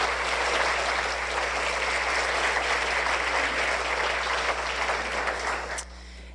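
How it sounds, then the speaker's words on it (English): An audience claps for Kelly in a big, dense burst of applause that holds steady for about six seconds and then cuts off sharply. "One more round of applause for Kelly."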